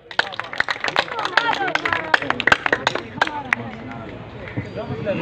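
At a gas project inauguration gathering, people clap to welcome a guest: uneven, scattered claps from a small group up close, loosening and thinning toward the end amid background murmur.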